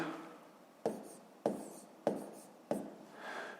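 Pen strokes writing numbers while solving a fifth-grade math exercise: four sharp, scratchy strokes spaced about every half second, close and clear, with no talking.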